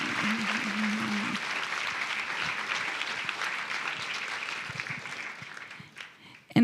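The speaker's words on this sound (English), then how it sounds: "One more round of applause for Chloe." An audience at a Legal Services Corporation 50th anniversary forum gives a sustained round of applause, steady dense clapping that tapers toward the end, briefly over a low voice at the start.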